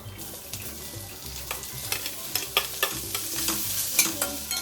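Cut potatoes for a samosa filling are stirred into a sizzling tempering of cumin, crushed ginger, garlic and green chilli in a pan, with steady scraping strokes and a constant frying hiss, close and without talk.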